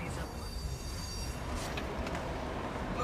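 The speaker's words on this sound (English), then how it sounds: "The noise of the train," A train rolls past with a steady rumble and faint metallic wheel squeals, heard from nearby, with a voice faintly audible underneath.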